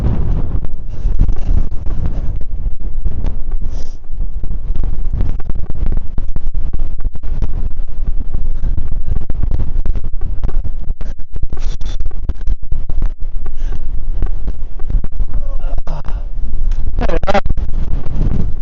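Strong wind buffets the microphone on the exposed summit of Meall Garbh, a Munro on the Glen Lyon horseshoe, with a loud, steady roar and gusty rumble and no voices.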